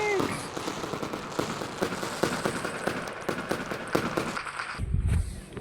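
Fireworks bursting in a fireworks simulator video game, a dense run of crackling pops and bangs going off steadily, with a deeper thump near the end.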